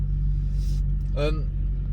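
A lorry rounds a corner on a road, a brief passing rumble rising over a loud, steady low engine drone from a Maserati GranTurismo S with a Larini exhaust, no talk over it.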